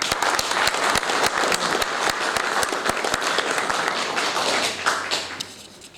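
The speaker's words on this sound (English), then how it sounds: "So I'd like to give him a round lot of applause." Graduation ceremony crowd in Manchester claps for the Lord Mayor, a dense, loud round of applause with distinct individual claps, continuing steadily for about six seconds before tapering off.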